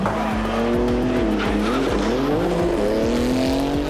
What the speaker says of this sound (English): Porsche running a speed comparison test between the Taycan Turbo S and Heaton and Ash's GT2 RS Targa car